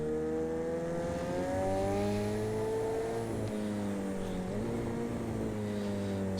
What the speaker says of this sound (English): the tyres on this are squealing away